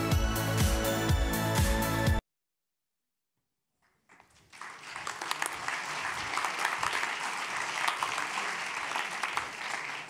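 Pre-recorded applause played from a video on stage at a business conference closing plenary, entering after a burst of music and a short silence, then building into a steady, dense clapping that continues to the end.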